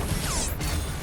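Impaler weapon drawn in Doom: The Dark Ages, a brief metallic mechanical clack and ratcheting whir over a dense rumbling game background, close and moderately loud.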